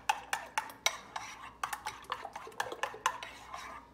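Sugar and milk being whisked together in a bowl for French toast batter, a quick run of light rhythmic clinks and taps of utensil against the bowl, close and fairly quiet, no speech.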